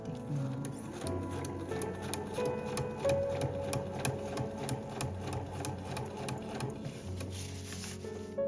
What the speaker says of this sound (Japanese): 持ち手のところとポケットのところも返し縫いをしないでまっすぐ縫っていきます。